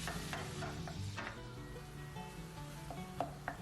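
Ground beef sizzles steadily in a hot pan beside softened onions for a Turkish Kayseri yaglama, with soft scraping and stirring clicks over a constant frying hiss.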